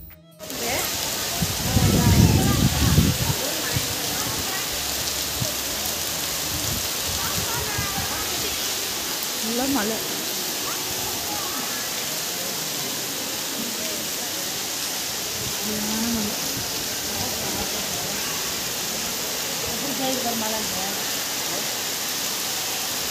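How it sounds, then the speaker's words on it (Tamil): Heavy rain pours down steadily at a temple, a dense, loud hiss that holds throughout, with a brief low rumble near the start and scattered faint sounds beneath the downpour. "மழை வந்து ரொம்ப மழை."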